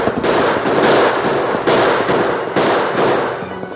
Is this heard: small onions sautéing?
no